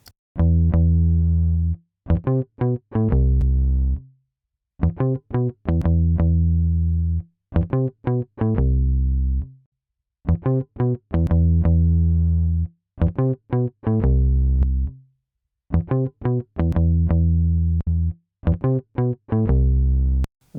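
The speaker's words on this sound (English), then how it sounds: "let's dial the ratio back a tiny bit, and then let's play some more bass" Electric bass runs through a Tubetech CL1B compressor plugin with distortion: short plucked phrases and sustained gritty notes repeat in regular bursts, separated by brief silences, loud and close, with no talking.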